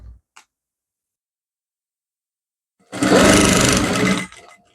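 A sewing machine stitches the shoulder seam of a dress, one loud close burst of rapid mechanical whirring lasting about a second and a half after near silence.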